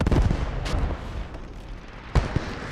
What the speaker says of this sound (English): Enemy artillery, Northern Forest.